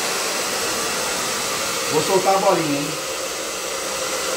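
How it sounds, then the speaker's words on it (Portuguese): A hair dryer runs steadily and loudly throughout as a steady airy roar, used in a family game of blowing a small ball toward a basket, while a person speaks briefly over it. "Olha aí, vou ligar o secador."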